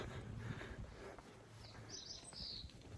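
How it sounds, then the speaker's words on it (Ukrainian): Birds sing outdoors near small houses and gardens close to Yokohama, Japan, giving a few faint, high chirps over quiet ambient background. "Ось пташки так співають, класно."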